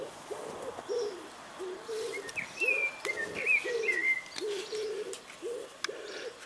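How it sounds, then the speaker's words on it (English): Repeated soft cooing of pigeons in a steady rhythm, with faint chirps from smaller birds in the background. "If it's not chickens, it's pigeons."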